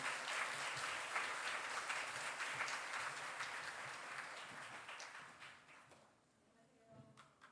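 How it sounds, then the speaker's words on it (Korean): A church congregation's steady applause fills most of the clip, then fades out toward the end, leaving quieter room sounds. "우리 박수로 맞이해 주시면 감사하겠습니다"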